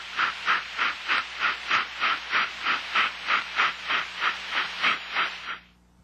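A steam trap on a continuous flow test discharges in about fourteen regular, loud hissing bursts of steam that stop abruptly near the end, leaving a low background hum.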